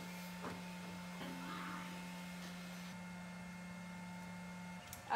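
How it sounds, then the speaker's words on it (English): A belt grinder grinding bevels into a Damascus steel knife blade, giving a steady close whine and droning hum that holds evenly and then cuts off at the end, with no talking. "Now let's go ahead and grind in some bevels."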